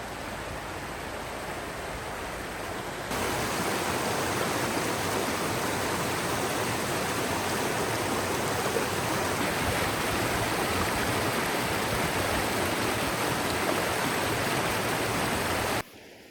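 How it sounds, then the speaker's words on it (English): A small stream flows at Salt Springs State Park, a steady broadband rush of water that jumps louder after the first few seconds and holds constant, close and alone, until it cuts off near the end. "there's this little flow here that I really enjoy."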